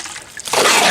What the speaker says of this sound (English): Then I'm just going to add the water,